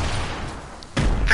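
A grenade blows up in a Fortnite duos match, a sudden loud boom midway that stays rough and noisy, with another burst just after.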